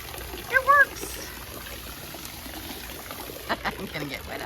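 Water trickles and splashes steadily into the anchor locker of a boat, a faint continuous pouring with a few small splashes while people talk nearby.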